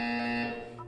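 Electronic test-chamber buzzer from the video game Portal, a loud steady tonal drone held for most of a second before it cuts off and a brief higher tone follows.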